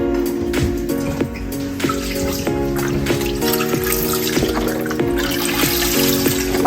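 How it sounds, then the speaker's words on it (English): Chicken broth pours steadily into a Dutch oven for a roasted garlic onion tomato soup, a continuous trickling, splashing wash of liquid that runs under a busy, tonal background throughout. "Go ahead and pour some chicken broth in here."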